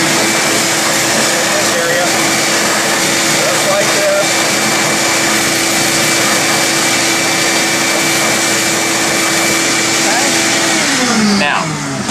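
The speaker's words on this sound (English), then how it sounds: "just real fast I'm going to run the shop vac here. It'll be a little bit noisy." A shop vac runs steadily and loudly the whole time, a constant broadband roar with a steady motor whine, winding down at the very end.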